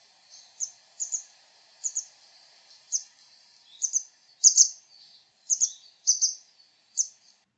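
A grey wagtail gives a series of quick, sharp, high chits, often in pairs, about a dozen bursts spaced irregularly over several seconds, clear and alone against silence.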